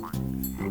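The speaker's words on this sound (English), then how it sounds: "Oh, it's a frog." A frog croaks twice, each a short, buzzy, harmonic call, the first long and the second starting just as the clip ends, fairly close and clear, with no voices.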